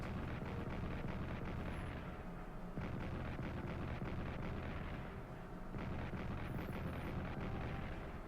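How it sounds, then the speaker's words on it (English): Dull rumbling booms of artillery fire in the World War I strategy video game Strategic Command, a dense continuous barrage heard faintly and at a distance. "Artillery in Sinai opens up on Gaza."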